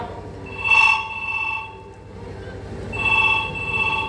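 A telephone rings in two bursts about two seconds apart, a bright electronic trill heard close by with no talking.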